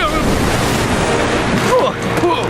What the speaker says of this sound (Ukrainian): Ці хвилі більші, ніж гігантський гарбуз під час збору врожаю.